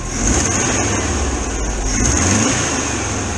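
A VW camper van engine runs steadily at raised revs during ignition timing adjustment, a continuous mid-pitched drone with a slight rise and fall, no voices.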